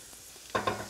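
Shallots and garlic sizzle in a pan while being stirred, a soft frying hiss broken by two quick scraping stir sounds close by.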